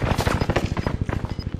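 Rapid automatic gunfire in Call of Duty Warzone on Fortune's Keep, a fast steady burst of sharp close shots in quick rhythm, loud and alone.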